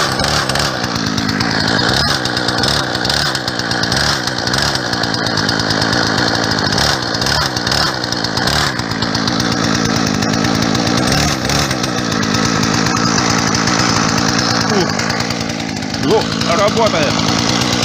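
A Husqvarna 120 Mark II chainsaw runs on its first start, a loud continuous buzzing engine drone that holds steady throughout with slight rises in revs, while someone talks over it.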